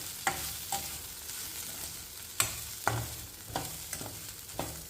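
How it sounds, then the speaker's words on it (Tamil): Vegetables softly sizzle as they sauté in a pan for chutney, while a utensil stirs and scrapes now and then; irregular light knocks over a steady frying hiss. "இது நல்லா வதங்கி வரட்டும்."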